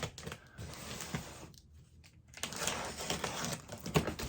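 A blade slices into the cardboard box of a brand new home audio system, giving close, continuous scratchy cutting and tearing with a short pause partway through.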